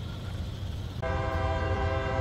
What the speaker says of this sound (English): Well, last train of the day, 66X. Check it out.